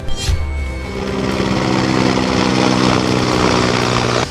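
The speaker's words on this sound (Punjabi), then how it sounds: "ਵੈਸੇ ਹੈਲੀਕਾਪਟਰ ਬਹੁਤ ਚੱਲ ਰਹੇ ਨੇ" Helicopters flying over a flooded district, a loud steady engine and rotor drone that swells slightly and holds throughout, with no voices.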